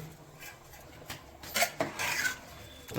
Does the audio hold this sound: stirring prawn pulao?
yes